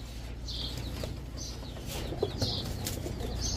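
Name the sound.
pigeons flapping wings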